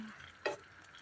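Chicken rice fries in a pan with a soft sizzle while it is stirred, and one sharp scrape of the utensil stands out midway; no talking.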